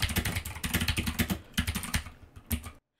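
Rapid typing on a computer keyboard, dense clattering keystrokes in quick bursts with brief pauses, close and clear with no voices, ending abruptly in silence.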